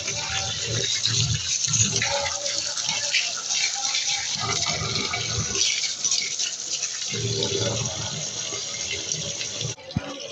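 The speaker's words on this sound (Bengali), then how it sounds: "তেহারির জন্য আমি যে পোলাওয়ের চালটা সেটা ধুয়ে নিই।" Polao rice, a kilogram of it, being washed under running water for tehari: a steady wash of water and sloshing grains fills the whole stretch with no talk, ending in a single sharp knock.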